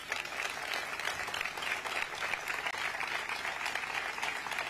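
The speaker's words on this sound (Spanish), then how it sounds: "quiero darles un fuerte aplauso también a ellos" Audience applause at a Spanish local political party presentation, a steady dense clapping that fills the whole stretch at moderate distance with no speech over it.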